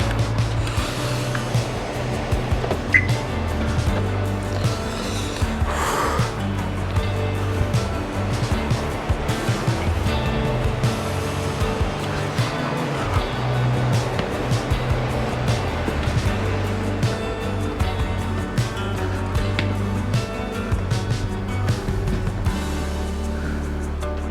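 Flowing water at night near Jalori Pass, a steady loud rushing that continues evenly throughout, with faint scattered clicks and rustles on top.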